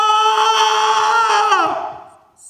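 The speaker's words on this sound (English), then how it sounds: "and scream at the top of my lungs" One person lets out a loud, sustained scream at full force that holds strongly, then bends downward and fades away over about two seconds.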